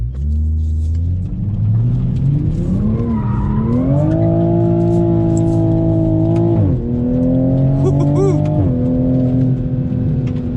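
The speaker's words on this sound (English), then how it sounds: "what do you guys say we have a little drifting fun here?" A Toyota Supra engine revs hard while drifting, rising from a low rumble to a loud, sustained high-pitched roar with brief dips and tire noise mixed in.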